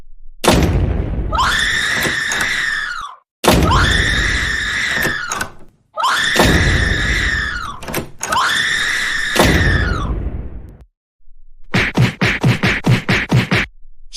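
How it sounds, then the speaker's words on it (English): A cartoon character in an animated short screams repeatedly in four long, loud, shrill bursts separated by brief silences, followed by a rapid series of sharp banging thuds like slamming doors. "that is enough slamming doors and screaming already"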